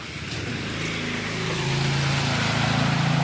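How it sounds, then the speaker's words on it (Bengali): A motorbike rides through a rain-flooded road, its engine droning steadily louder as it nears, with a rushing wash of water throughout. "দেখেছো বাইকটা গেল কত জল হয়েছে রাস্তায়"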